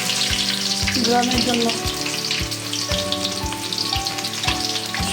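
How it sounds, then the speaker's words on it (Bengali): Dried red chillies sizzle steadily in hot oil, a loud continuous frying hiss with regular knocking underneath, while a voice speaks briefly over it. "তেলের মধ্যে কয়েকটা শুকনা মরিচ দিয়ে দিলাম।"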